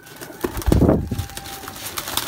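Large pigeons kept for sale on a rooftop coo in a low burst, loudest near the start and then settling into softer rustling and scattered calls nearby.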